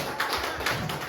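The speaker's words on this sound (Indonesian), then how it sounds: "Tepuk tangan dulu." Schoolchildren in a classroom clap their hands in a few quick bursts, uneven group claps close by with short gaps between them.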